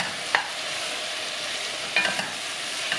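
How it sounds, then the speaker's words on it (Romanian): Onions and vegetables softening in a pot with caraway for goulash are stirred now and then. A steady low sizzle runs throughout, broken by a few short scraping strokes of the spoon. "O lăsăm și pe aceasta să se călească puțin, amestecând din când în când, cam 5 minute."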